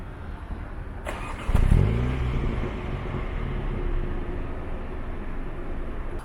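A Mini Cooper S convertible engine cranks and starts with a sharp burst, then settles into a steady, low idle rumble close by.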